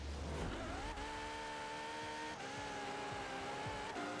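A Ferrari FXX launches from a race start in Forza Horizon 4, engine note climbing in steady gear pulls with tire squeal from wheel spin, loud and continuous throughout.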